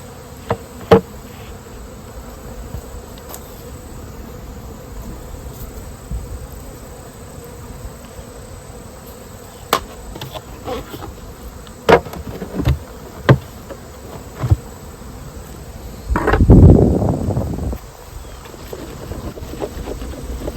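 Honey bees hum around an open beehive during a mite check, a low steady buzz with occasional louder passes near the listener and a few sharp knocks and handling clatters.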